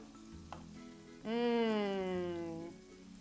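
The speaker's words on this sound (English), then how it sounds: "Our tofu triangles are golden brown on their first side, so they're ready to be flipped." Tofu triangles frying in a pan, a steady close sizzle that swells loudly partway through and holds, with a strong tonal hum running underneath.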